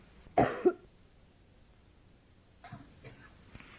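A woman gives one hard, close cough, then a smaller follow-up cough. After a quiet gap she makes a few softer throat sounds and another light cough, in an otherwise silent room.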